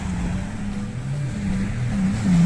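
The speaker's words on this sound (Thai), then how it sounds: "มีเจ็ตสกีอะไรกันอยู่ได้ยินเสียงไหม" A jet ski engine drones from the water at Pattaya, rising and falling in pitch against a steady wash of wind and waves, with no talking.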